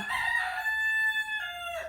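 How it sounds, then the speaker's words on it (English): A rooster crows once, a long, bright, strained call held for nearly two seconds with a rising start and a fading end, fairly close and alone. "that's my rooster again"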